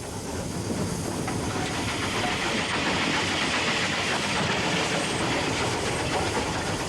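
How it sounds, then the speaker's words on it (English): Steady, loud rumble and hiss of a steam locomotive underway, a continuous chugging roar with faint rhythmic clatter throughout, no voices. "I'm listening to the beat of the engine."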